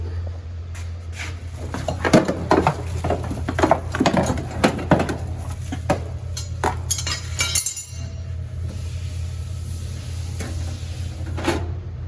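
A metal griddle for a 2025 Forest River RPOD 194 trailer is fetched and handled, giving a run of clinks, knocks and clanks, close and fairly loud, with a brief rattling shuffle partway through.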